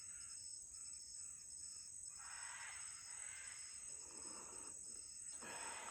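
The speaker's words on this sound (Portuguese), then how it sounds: "Ouça o canto dos pássaros," Macaws and other birds call with harsh caws amid a steady high insect buzz in a natural outdoor setting, soft and distant with no voices.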